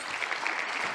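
Short burst of applause, a dense wash of clapping at moderate level lasting about a second, with no voices over it.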